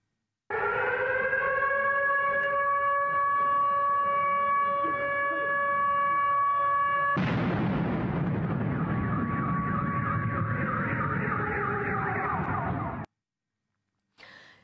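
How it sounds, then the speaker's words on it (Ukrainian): A steady air-raid siren wails loudly for several seconds, then a sudden roaring explosion takes over, rumbling on before cutting off. "чути звуки вибуху та сирен"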